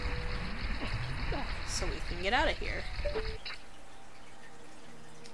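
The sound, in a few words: water level rising in The Legend of Zelda: Ocarina of Time video game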